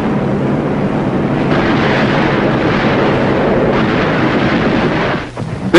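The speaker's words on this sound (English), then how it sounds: "Big naval guns knock out shore-based installations." Naval gun bombardment hitting shore installations during a World War II beach assault, heard as a sustained heavy roar of blasts and rumbling detonations that drops off abruptly near the end.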